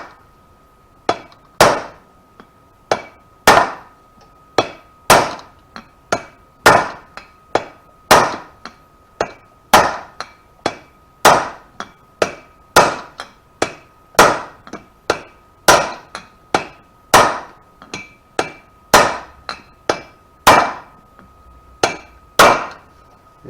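Hammer blows driving a wheel bearing on a Honda ATV rear wheel, sharp metallic strikes repeated steadily around once per second, loud and close with a faint steady tone between hits.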